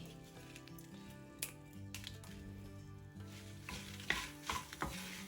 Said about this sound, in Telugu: ఎండుమిరపకాయలను కూడా బాగా వేగనివ్వండి.